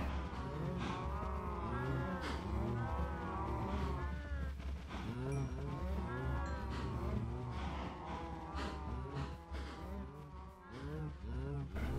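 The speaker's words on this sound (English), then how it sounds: "we could take this wheat and feed the cows" Cows mooing in a survival video game, several overlapping moos repeating steadily over continuous background game sound, moderately loud and close.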